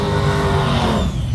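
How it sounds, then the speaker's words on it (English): A car doing a burnout at a drag strip, a loud, steady engine roar with tire noise held for the whole moment, close and unbroken. "Oh, burnouts."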